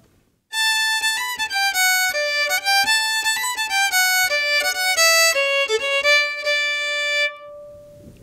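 A solo violin plays a lively Estonian labajalg folk dance tune from Järva-Madise with quick bowed notes in a bouncing triple rhythm, close and clear, ending on a held note.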